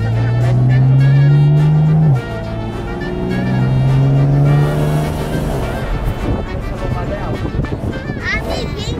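A BMW M4 passes with a loud engine drone and a sustained tire squeal, then the noise grows rougher and fades slightly as the car moves on, with people talking throughout.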